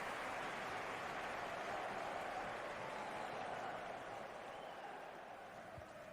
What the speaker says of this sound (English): City fans applauding here.